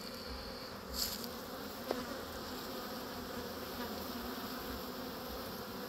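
Honey bees hum at a beehive entrance during an eclipse, a quiet, continuous drone with a couple of bees zipping close by the microphone.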